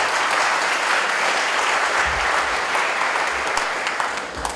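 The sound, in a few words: audience applause for cadets' theatrical performance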